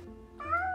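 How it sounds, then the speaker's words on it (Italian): A cat gives a single short, close meow that rises and then trails off, with faint low room hum underneath and no voices. "Gatta."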